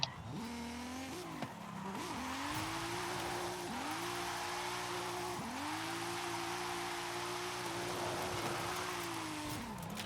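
A 2JZ-powered Camry stock car drifting in Forza Horizon 5, its engine revving up and down in long sweeps while the tires squeal steadily, loud and continuous with no voices.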